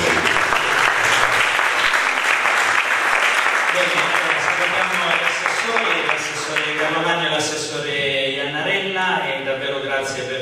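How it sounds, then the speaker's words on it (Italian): A large audience gives sustained loud applause at an anniversary event, clapping steady for several seconds and then thinning as a voice begins talking over it. "Quindi un grandissimo applauso a Gelsomina e a tutte le persone."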